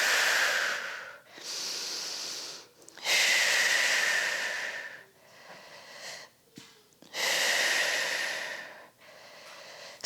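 Deep, long exhaling breaths during a labor preparation stretch: a woman breathes out slowly and audibly several times in a breathy, close rhythm, with brief quiet pauses between the breaths and no talking.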